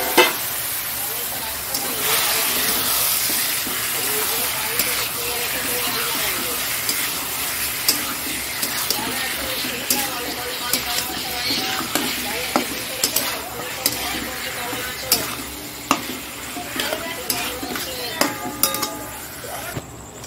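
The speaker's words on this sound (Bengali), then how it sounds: "মাংসটা দিয়ে দিচ্ছি।" Meat is added to a hot pan and fries with a loud continuous sizzle and hiss, while a spoon stirs it with frequent scrapes and clinks against the pan, close and steady throughout, with no clear talk.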